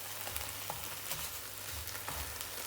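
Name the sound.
bacon frying in a pan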